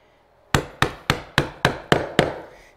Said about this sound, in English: You're pounding straight down, so it's not pushing the board left